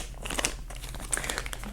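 A self-sealing plastic bag holding drone propellers for a RUNNER 250 quadcopter is opened, giving close, continuous crinkling and crackling of plastic with small sharp snaps and no speech.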